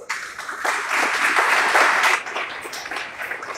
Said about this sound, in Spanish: pido nuevamente un fuerte aplauso para ustedes